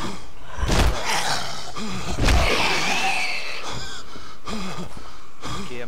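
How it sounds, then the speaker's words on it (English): A man breathes heavily in the zombie game Dead Island: harsh, wheezing breaths and gasps, close and fairly loud, with a few heavy thumps between them. "A guy heavily breathing."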